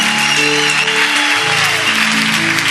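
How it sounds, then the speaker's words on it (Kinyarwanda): A church congregation applauds during a service, a steady wash of clapping that runs throughout alongside sustained tonal music. "Tupige makofi mengi."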